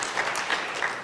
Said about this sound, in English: Now I wanted a little bit of applause.